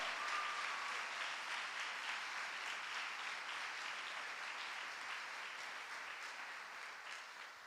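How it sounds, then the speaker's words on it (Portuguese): Audience applause at a Catholic priest's daily reflection, a continuous, even roar of many hands clapping that holds steady and only slightly fades toward the end, with no talk. "Aplauda, por favor."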